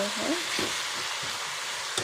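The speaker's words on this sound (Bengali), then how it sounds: "পেঁয়াজটাকে ভেজে নেব।" Sliced onions frying in hot oil for beef curry, a soft continuous sizzle with a few stirring scrapes, close and fairly quiet.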